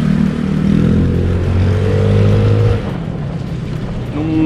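A Yamaha Mio Sport scooter engine, freshly fitted with new rubber engine-support bushings, runs steadily at close range with a low, even hum that dips slightly partway through and rises again near the end.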